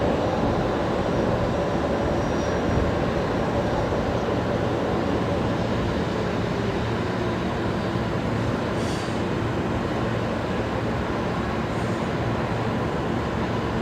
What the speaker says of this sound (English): Looks like a Max 8 just about to touch down here. Velocity Max 8